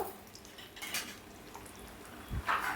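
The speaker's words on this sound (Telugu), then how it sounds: "కొన్ని వేరుశనగలు వేసుకుంటున్నాను ఇవి కూడా బాగా వేగాలి" Peanuts tossed into hot oil in a pan clink and rattle against the metal over a low background sizzle, with a louder clatter of the pan near the end.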